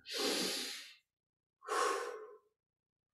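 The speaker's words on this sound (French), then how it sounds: "Dos légèrement fléchi, 20-25 respirations profondes." Deep, slow breaths during a guided meditation with a slightly bent back, two long airy exhalations separated by silence, close and loud with no talking.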